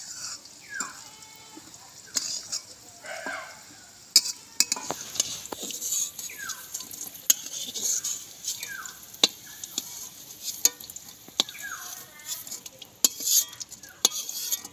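Fried potatoes are lifted out of hot oil with a metal utensil: scattered sharp clinks and scrapes over a faint sizzle, with soft chirping in the background and no talk.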